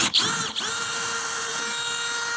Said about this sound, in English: A little hole saw is gonna help us out here.